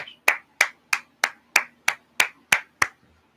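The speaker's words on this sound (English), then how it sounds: "I'm clapping for you, ladies." Hand clapping from one person honoring a team of women, about nine sharp, evenly spaced claps at a steady rhythm, close and alone with no talk over them.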